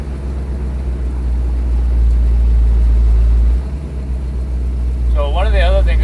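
A station wagon's exhaust drones steadily at idle and part throttle while driving, a loud low rumble running through the whole stretch, with a brief whistling or squealing sound near the end.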